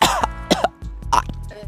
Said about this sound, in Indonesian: Batuk-batuk